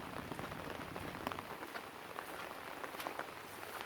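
Heavy rain falling steadily, a dense even hiss of drops striking surfaces, continuous and fairly close with no voices.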